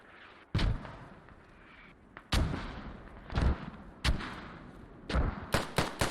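Gunfire in the tactical shooter Squad on the Kokan map during a push onto an island: sharp separate shots and short bursts spaced a second or two apart, loud and close, over a low background rumble.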